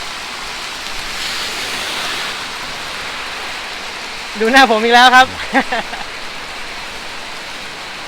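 Steady, dense hiss of heavy rain pours throughout, with someone speaking briefly over it midway, beside a Yamaha XMAX 300 scooter.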